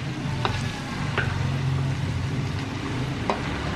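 Goat meat for biryani being stirred with spices in a pot, a steady low sizzle with a few sharp scrapes and clinks of the spoon against the pot, close and alone.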